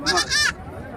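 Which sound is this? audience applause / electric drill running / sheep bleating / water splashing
sheep bleating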